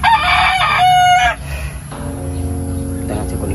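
A rooster crows loudly and close by in a single drawn-out call, followed by softer clucking and murmuring from chickens nearby.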